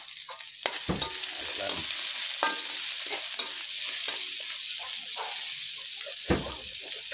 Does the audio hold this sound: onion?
yes